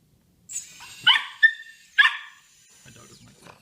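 A dog barks a few sharp times close by, three loud yaps with a short whimpering tail, heard indoors over a quiet background while a small quadcopter is being built.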